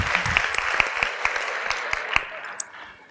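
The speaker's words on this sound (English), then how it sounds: "Give yourselves a round of applause." An audience at a training session on MRSA bacteremia and CDI reporting gives a short round of scattered applause, individual claps distinct and fairly close, tapering off toward the end.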